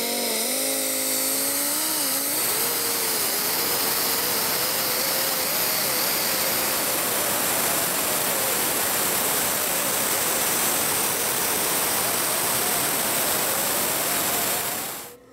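Seam sealer being ground off a 2001-2006 Chevrolet Silverado 2500 cab corner: a loud, continuous close power-tool whine with dense rasping noise, pitch dipping briefly at the start and running steadily until it cuts off at the end.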